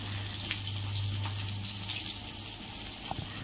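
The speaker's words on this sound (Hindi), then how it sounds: "अब इसे हम अच्छे से डीप फ्राई करते हैं।" Arbi leaf (kachchu patta) pakoras deep frying in hot oil, a steady close sizzle and bubbling hiss with no talking.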